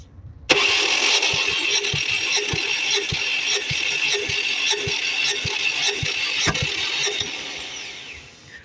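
A Ford Focus Mk1 engine cranks on the starter during a compression test, a steady whirring drone with evenly spaced compression pulses for several seconds before winding down, close and fairly loud.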